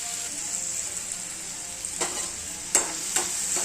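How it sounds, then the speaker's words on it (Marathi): Onion frying in a pan until browned, a soft continuous sizzle close by, broken by a few brief scrapes of stirring. "आता आहे ना कांदा बघा ब्राऊन कलर होईपर्यंत भाजत आलेला आहे"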